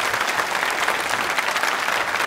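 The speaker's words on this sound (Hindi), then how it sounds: "तालियां जोरों से बजाइए।" A live audience at a televised Hindi quiz show claps steadily and evenly, a dense burst of applause close to the microphone with no voices on top.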